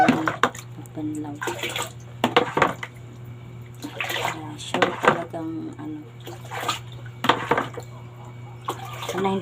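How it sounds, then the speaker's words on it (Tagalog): White laundry rinsed by hand in a basin of water, with repeated splashing and sloshing bursts as cloth is lifted and plunged, close by, while someone talks intermittently. "magbabanlaw na ako guys kasi para puti banlawan ko."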